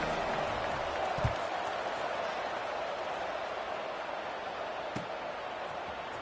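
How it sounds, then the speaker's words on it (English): A college football stadium crowd roars in a broad, sustained wash of cheering before the kickoff in a Georgia versus Miami game, steady and distant with a couple of faint thumps beneath it. "They're set to kick it off, and this crowd now ready to get behind them."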